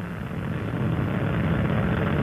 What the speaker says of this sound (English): Booster ignition and liftoff of Space Shuttle Endeavour on a 21st century mission